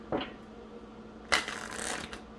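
Two quick bursts of riffling cards, a short flick near the start then a louder, longer shuffle, close up with no talking.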